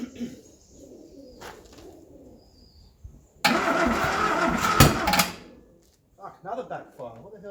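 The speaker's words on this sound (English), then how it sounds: "another backfire" A neglected Ford Escort MK1 coupe cranks for about two seconds with a loud, harsh burst, then cuts off; quieter engine noises and bird coos fill the gaps before and after.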